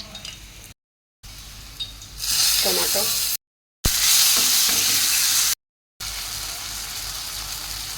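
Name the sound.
onion and chicken frying in oil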